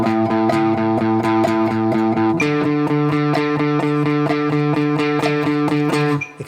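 A distorted, effects-laden electric guitar is picked in steady sixteenth notes, four picks per beat, shifting to a new chord midway. The tone is loud and close with no voices.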